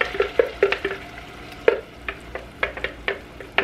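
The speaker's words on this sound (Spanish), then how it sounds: "voy a sofreír un poco mi sazón licuado" Blended seasoning being sautéed in a pan for soy meat, with a light sizzle under irregular clinks and scrapes of stirring, close and fairly loud.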